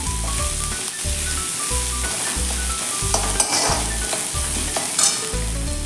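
Ginger and garlic sautéing in a pan for sprouted matki usal, heard as a continuous close sizzle with regular rhythmic scraping strokes of a spoon about once per second and occasional clinks, with no talking.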